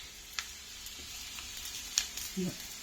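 Tempering for raw mango dal fries faintly in a pan, a soft sizzle broken by small spits and crackles, with a brief voice near the end.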